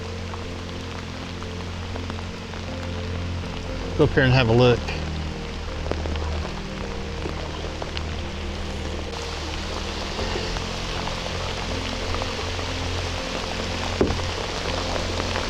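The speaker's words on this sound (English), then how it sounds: "Stay a little bit out of the rain." Steady rain patters down on a creek during a kayaking outing at Meadow Creek Park, a constant close hiss beneath brief spoken words and a few louder knocks.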